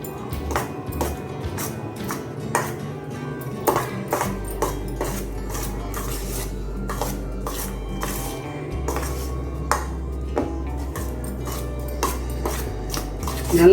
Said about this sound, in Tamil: போட்டுட்டு நல்லா கலக்கி விட்ருங்க